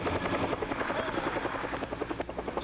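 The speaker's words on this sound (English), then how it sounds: "At the spill site, helicopters hovered, surveying the extent of damage done to the Nemadji River by the leaking rail car." A helicopter hovers over a rail car benzene spill site on the Nemadji River, its rotor thumping steadily and loud throughout, alone with no talk.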